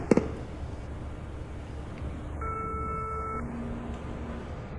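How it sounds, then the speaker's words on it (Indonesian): A telephone call hits a busy line, giving steady repeating tones heard faintly under low background noise after a brief click at the start. "nomor yang Anda hubungi sedang sibuk"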